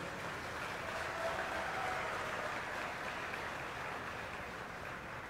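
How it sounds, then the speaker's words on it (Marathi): An audience claps steadily at a ceremony marking a Guinness World Record certificate in Maharashtra, a broad, even wash of applause heard at moderate distance with no voices over it. "आपल्या महाराष्ट्राकरता जोरदार टाळ्या वाजवूया"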